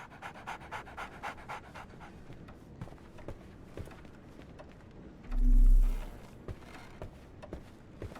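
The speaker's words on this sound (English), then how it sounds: "So, Barnes has a dog now." A dog in Sherlock Holmes The Awakened pants close by in quick, steady, rhythmic breaths that run through the whole stretch, with a brief low thump partway through.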